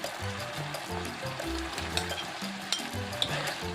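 Small cut pieces of chicken liver hit a hot pan and sizzle steadily, a close, continuous frying hiss with soft stirring clatter underneath.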